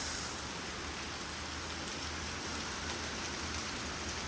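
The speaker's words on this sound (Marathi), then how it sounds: "या वर्षाचा पहिला पाऊस पडलेला आहे आज" Steady broadband hiss of the year's first rain falling and pattering on surfaces, continuous and even throughout with no voices.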